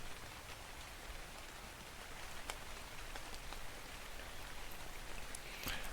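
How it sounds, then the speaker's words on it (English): Steady rain in a video game falls in a dense, even hiss, with a few sharper drops ticking through the constant wash of sound. "At least it's raining."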